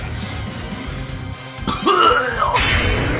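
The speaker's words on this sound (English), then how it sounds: "begins to cough up blood as the last of his life force fades away from the damage" A strained, guttural coughing and choking sound, close and fairly loud, rising into a harsh rasping burst near the end.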